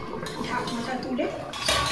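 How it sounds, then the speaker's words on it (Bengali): A lid is lifted off a cooking pot of spicy chicken curry with fried potatoes, giving a brief metallic clank and clatter of cookware over a steady kitchen background, with a voice faintly present. "ঢাকনাটা তুলে"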